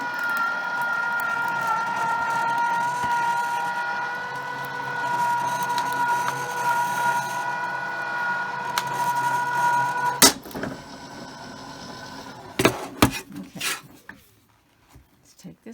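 An AccuQuilt fabric die cutter feeds a Sea Medley die through its rollers with a steady mechanical whir and hum, then stops, followed by a few sharp clicks and handling clatter as the die comes out.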